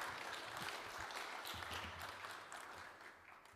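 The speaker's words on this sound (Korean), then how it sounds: "박수로 한번 발제를 청해 주시기 바랍니다." Audience applause at a church public hearing welcoming a presenter, a steady wash of clapping that gradually fades, heard from a distance.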